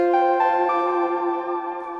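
OP-1 synthesizer run through a Walrus Audio Lure ambient effects pedal, giving a soft sustained tone with shimmering upper harmonics that slowly swell and fade, played alone and fairly quiet.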